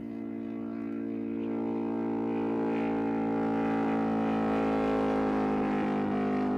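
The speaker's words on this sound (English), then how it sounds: "Actually, that kind of sounded like a Ducati." A motorcycle engine approaches and passes, its droning, harmonic tone steadily swelling louder and nearer over several seconds, with no voices.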